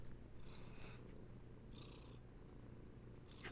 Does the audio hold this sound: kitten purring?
yes